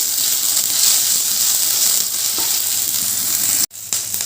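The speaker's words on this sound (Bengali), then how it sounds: "দিয়ে একটু ভালো করে নাড়াচাড়া করে নেব" Green chilli and ginger sizzle in a frying pan as they are stirred, giving a steady, close hiss of oil throughout that cuts off abruptly near the end before resuming briefly.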